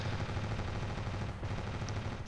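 Dense continuous gunfire aimed at a helicopter in the video game Ravenfield, a rapid rumbling barrage with a heavy low-end drone throughout and a couple of faint high pings near the end.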